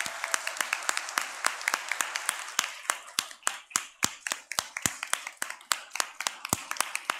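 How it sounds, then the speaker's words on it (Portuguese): Applause for the house staff rings out at a formal solemn session, with many distinct, sharp hand claps in a loose, uneven rhythm, fairly close and clear, some claps louder than others. "Eu peço um aplauso a elas."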